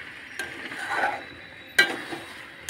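Meat being sautéed for Bengali kosha mangsho, with a soft pan sizzle and two quick spatula scrapes against the metal during a brief stir.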